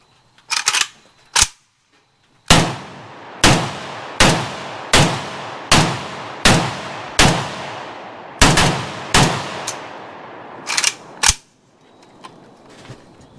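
A K-Var Arsenal SAM7SFC carbine fires a string of loud, sharp shots, a couple of early ones and then about a dozen spaced roughly a second apart, each with a ringing outdoor decay.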